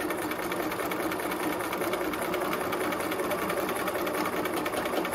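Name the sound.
sewing machine stitching fabric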